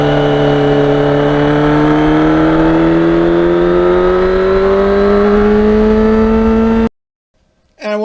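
A 1991 Yamaha FZR 1000 motorcycle engine running loud and close, its pitch rising gradually as it revs up over several seconds, then cut off abruptly, followed by a brief voice.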